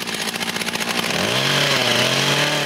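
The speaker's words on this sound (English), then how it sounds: "I've hired a post hole borer to make the job nice and easy" A two-person post hole borer runs while digging fence post holes, its small petrol engine pulsing rapidly and then steadying into a loud, continuous drone, close up and alone.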